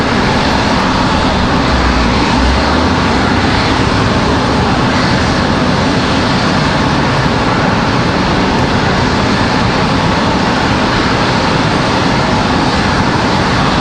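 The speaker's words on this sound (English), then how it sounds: "E175 is going to make a lot of noise back here in the alleyway for a few minutes." A Delta Embraer E175 jet airliner arriving at Raleigh Durham airport roars loudly and continuously, a broad, steady engine rush filling the whole stretch without speech.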